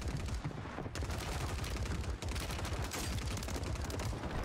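Dense video-game gunfire on Rebirth Island, the KAR98K bolt-action rifle among it: loud, close cracks and sharp bursts over a constant roar of battle, with several stronger hits standing out across the clip.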